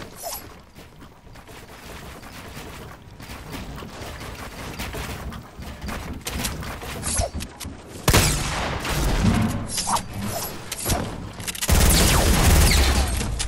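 Loud video game gunfire in sustained bursts and volleys amid mechanical clatter and booms, growing denser and louder toward the end, with no talk over it.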